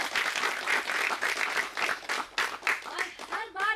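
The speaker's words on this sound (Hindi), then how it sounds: "एक बार जोरदार से तालियां भाई अपने आप को" Farmers in North Goa clap for themselves, with bursts of applause that rise and dip in uneven waves while a voice is heard over it.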